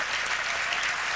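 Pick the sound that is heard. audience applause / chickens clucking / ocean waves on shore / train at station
audience applause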